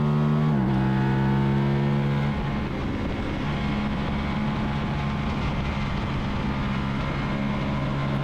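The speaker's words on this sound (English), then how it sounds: "So we're coming up, we'll shift 5th gear." A racing motorcycle engine at an AHRMA SOT3 race roars continuously and loud, with a brief pitch drop as it shifts up into fifth gear, then a steady high drone at full throttle.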